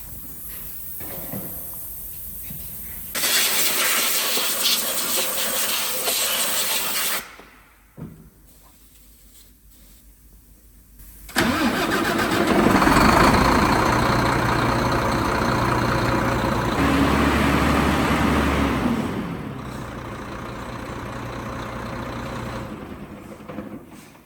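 A car engine starts and is revved several times in a repair garage after an engine rebuild, with loud bursts of rising and falling revs, idle between, and a quieter gap partway through.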